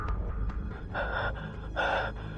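A man pants and gasps for breath after a struggle with a crocodile, a run of short, harsh inhalations and exhalations heard close up, with two stronger gasps in the middle and end.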